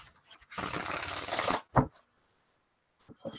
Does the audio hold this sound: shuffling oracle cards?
yes